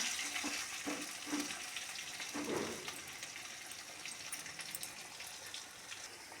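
Tomatoes hit a hot pan for a rohu fish curry, already cooking with ginger, and sizzle with a steady broadband hiss. A few brief bursts come early as they are added, then a softer continuous frying, with no talking.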